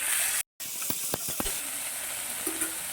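Banana stem pieces sizzle in hot oil with turmeric and salt, a steady bright hiss broken by a brief cutout and several faint clicks of stirring.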